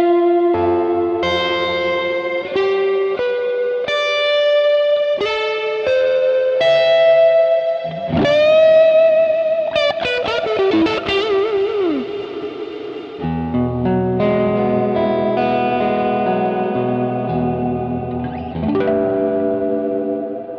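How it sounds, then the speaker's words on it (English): Electric guitar notes through the Blue Cat Audio Axiom amp plugin, drenched in reverb, with a swelling, ramping wash of echo tail that builds and smears after phrases, played alone without talk. "The reverb tail is ramping up."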